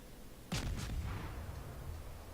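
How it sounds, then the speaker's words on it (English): Naval gunfire from a warship in the World of Warships video game: a sudden heavy double boom of a salvo, followed by a rumbling, fading roll of echo over a low hum. "Set off a few rounds."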